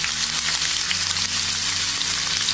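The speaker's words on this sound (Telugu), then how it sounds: "ఇప్పుడు వీటన్నిటిని కూడా వేగనివ్వండి." Green chilies, onions and cumin seeds sizzle in a pan with a steady, dense crackle throughout, close up and with no talking.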